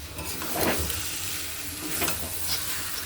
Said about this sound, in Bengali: এঁচোড়টা দিয়ে আমি পাঁচ মিনিট ভালো মতো কষিয়ে নেব